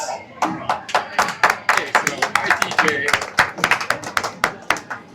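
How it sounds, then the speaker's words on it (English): Audience applause for the speakers at a talk on financial abundance and confidence, a burst of many hands clapping steadily across the clip, loud and close, with no talk over it. "Round of applause for speakers."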